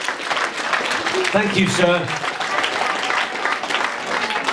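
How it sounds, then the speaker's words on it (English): Audience applause at an under-18s football club awards evening during a comedy hypnotist show, a steady wash of clapping filling the room throughout while a voice speaks briefly over it. "Give them a round of applause, everybody."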